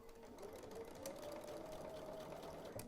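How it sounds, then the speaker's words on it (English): A sewing machine stitches white quilt squares together, a soft, steady whirring hum with a rising motor whine, quiet and continuous, with no voices. "I'm going to sew that right there and this on the other side."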